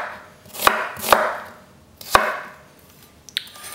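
Kitchen knife cutting through an onion on a board, three sharp, distinct chops spaced about half a second to a second apart, close and clear, followed by a couple of lighter taps; no talking.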